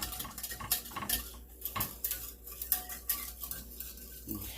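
A whisk clinks and scrapes briskly against a bowl, stirring a yeast mixture to break up small clumps for homemade bread, irregular close taps and swishes with no talking.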